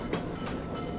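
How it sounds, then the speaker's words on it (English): A toy candy cane train chugs along, a steady rolling rumble with faint rhythmic clacking, close and continuous throughout. "Let's help our candy cane train chug away by saying, chugga chugga choo choo."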